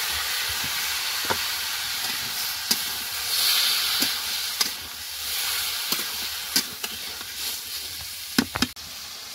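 Potatoes and ash gourd sizzling in hot oil in a pan, a steady soft hiss broken by scattered sharp crackles and pops, with no talking.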